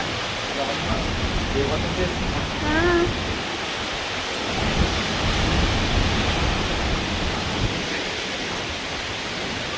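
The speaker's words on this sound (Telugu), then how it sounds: "మళ్ళీ గాలి వాన అయితే విపరీతంగా వచ్చేసాయి" A steady roar of strong wind and heavy rain, continuous and loud throughout, with a brief faint voice early on.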